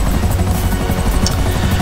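A helicopter in GTA V on PS3 thrums loudly and close, its rotor beating in a fast, steady chop, with no voices.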